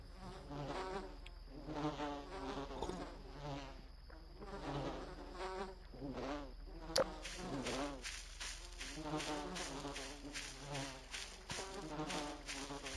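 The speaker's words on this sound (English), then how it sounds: "There's bees." Bees buzzing continuously at a distance, a steady faint drone with shifting overlapping hums and no talking.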